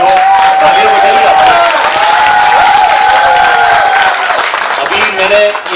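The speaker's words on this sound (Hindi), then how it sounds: "तालियां बजाइए" An audience claps steadily at a retirement farewell function, the applause dense and sustained while a voice carries over it, then thinning toward the end.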